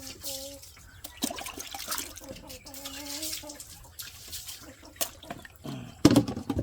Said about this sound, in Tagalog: Tagaan tong tubig kay mag-iuhaw man siya gud.